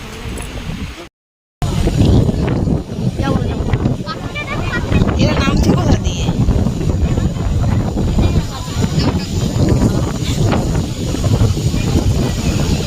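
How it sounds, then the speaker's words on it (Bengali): Strong beach wind buffets a phone microphone in loud, continuous roaring gusts that briefly cut out, with a person talking over the rumble. "ফোন টেনে নিয়ে যাচ্ছে হাওয়ার চোটে"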